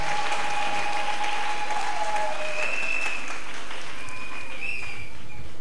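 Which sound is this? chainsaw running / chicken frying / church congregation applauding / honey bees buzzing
church congregation applauding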